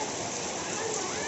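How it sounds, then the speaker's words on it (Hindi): Heavy rain pours down steadily, a dense, close hiss of water drumming on surfaces. "देखिए कितना जोर जोर से बारिश हो रहा।"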